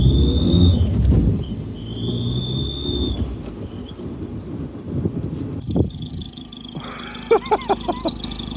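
A car turbocharger gives a loud, high, steady whistle in two bursts over a low engine rumble, followed by sharp clattering knocks near the end.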